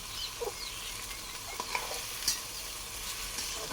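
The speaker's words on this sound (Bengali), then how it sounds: "এখন এই যে তেল গরম করছি, শুধু ঢাইলা দিবেন। এই 2 মিনিটে ভেন্ডি ভাজি।" Chopped okra fries in hot oil with a soft, steady sizzle, close by, punctuated by a few light clicks and scrapes of a spatula stirring in the pan.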